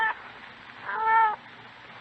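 A single drawn-out cat meow rises and falls in the middle, clear but fairly quiet over a faint hiss, in an old radio drama.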